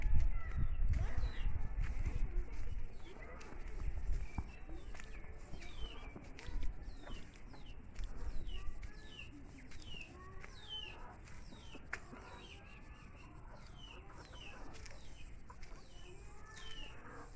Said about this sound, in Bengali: দেখো আমার বাড়ি যাবার রাস্তায় দেখো কতগুলো মুরগি এইদিকে ওইদিকে ঘুরে বেড়াচ্ছে।